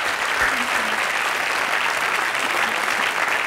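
A French TV studio audience claps steadily throughout, a dense, even wash of applause that neither builds nor fades.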